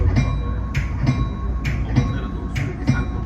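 Caltrain local train 221 departs Millbrae station, heard from inside cab car 4011, with a steady low rumble and a regular rhythmic clatter of wheels over rail joints, about one beat every second.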